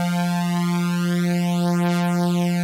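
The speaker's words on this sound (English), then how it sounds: "Just one long sustained note." A long sustained synth note on the root F holds steady and loud, a pure harmonic tone with a slowly sweeping filtered shimmer in its upper overtones, alone without voices.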